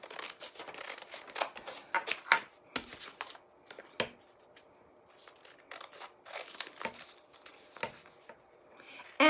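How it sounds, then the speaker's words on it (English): Scissors snipping through paper while paper letters are cut out, a run of crisp close snips and rustles in irregular bursts with short pauses, no voices. "I'm just going to cut these out."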